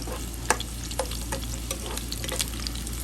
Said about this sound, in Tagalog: Lagay ko na po ang sibuyas.